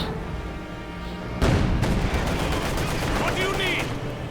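Artillery bombarding a church in Company of Heroes 2, a sudden heavy blast followed by rumbling impacts and rattling gunfire, loud and dense, with a voice speaking over it.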